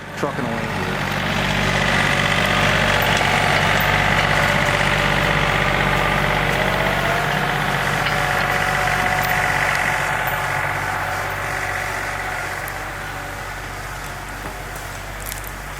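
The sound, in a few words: John Deere 3025e tractor engine running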